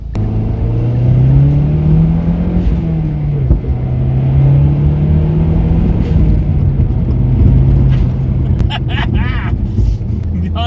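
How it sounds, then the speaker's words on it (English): Modified turbocharged Mazdaspeed3 with a tune, cold air intake and custom exhaust, engine droning steadily under acceleration from inside the car, a loud continuous rumble with rising pitch and some wind noise. "God bless turbochargers."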